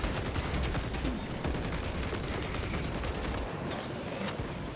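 A bolt carbine fires in Space Marine, loud dense rapid bursts in a continuous heavy barrage throughout, with battle noise packed around the shots.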